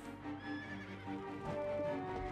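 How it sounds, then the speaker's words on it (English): In the Black Desert Mobile video game, a horse being tamed lets out a drawn-out whinny, with a faint clip-clop of hooves underneath, clear and fairly close throughout. "We're going to try to tame this horse."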